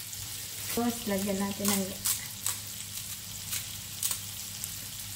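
Shrimp frying in a pan with a continuous close sizzle and crackle, occasional stirring clatter, while a person speaks briefly over it.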